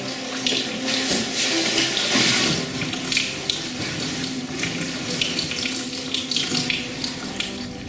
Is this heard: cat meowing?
no